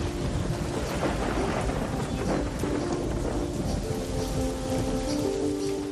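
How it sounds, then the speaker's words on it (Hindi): Sudden heavy mountain rain pours down steadily in a valley in Uttarakhand, a dense close hiss of drops with low thundery rumbling underneath throughout. "अचानक आई पहाड़ों की तेज बारिश ने मेरा सारा जोश ठंडा कर दिया।"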